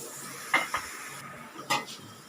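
Radish being sautéed for sambar in a pan gives a faint background hiss, broken by a few distinct clinks and scrapes of a utensil against the pan.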